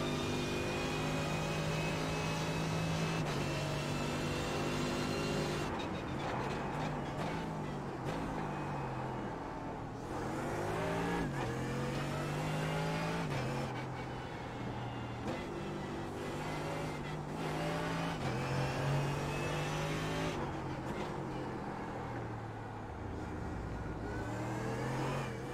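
Mercedes GT3 race car at the Nürburgring in iRacing, the engine loudly climbing through gears again and again with abrupt drops at each shift and lift-off, close and continuous with no talk.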